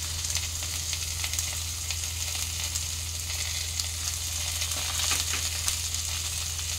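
Ginger paste, green chili paste, salt and turmeric sizzling steadily in hot oil over a low gas flame for a light fish curry with papaya, a continuous close frying hiss with no talk.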